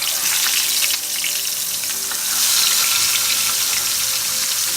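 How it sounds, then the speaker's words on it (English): Koi fish frying in hot mustard oil, a loud, close, continuous hiss and crackle of sizzling that swells slightly midway through. "Oil is hot now, so we'll fry the fish."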